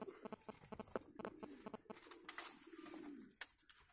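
Pigeons, including white birds, coo softly in a loft. The low coos repeat over scattered light clicks and flutters, all faint and close by.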